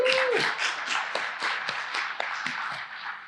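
A conference audience at a regional digital advancement summit claps for a newly introduced county official: a short burst of scattered, distinct hand claps, brisk at first and thinning out over about three seconds.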